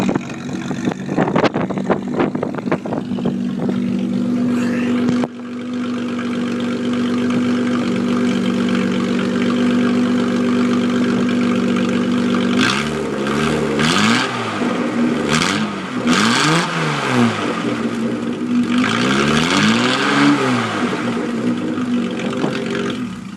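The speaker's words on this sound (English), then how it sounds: "Let you get a sound of the exhaust." A stock Datsun 280Z with a straight-pipe exhaust idles with a steady drone, then revs up and down in several loud, sweeping bursts close by, with no talk over it.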